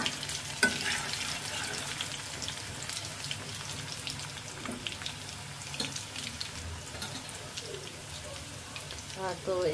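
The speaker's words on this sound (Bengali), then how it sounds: "তো এই যে আলু ফ্রাই করতে দিলাম" Potatoes fry in hot oil in a pan, a steady crackling sizzle with popping spatters, heard fairly close and carrying on beneath faint background voices.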